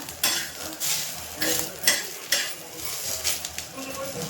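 Coriander and masala are stirred and roasted on a hot griddle: rhythmic scraping strokes of a spatula, about eight of them, repeat over a soft sizzle, close and moderately loud, with no voices.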